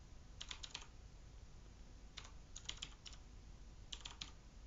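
A git command typed on a computer keyboard: three short bursts of quiet, quick key clicks separated by pauses, over a faint background hiss.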